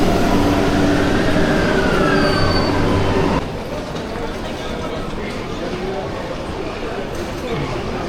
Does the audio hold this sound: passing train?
yes